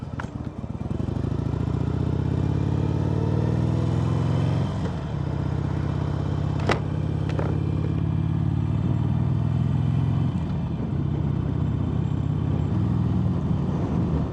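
A motorcycle rumbles loudly and close throughout the ride, its engine pitch rising and falling as it speeds up and shifts, with brief clattering knocks midway.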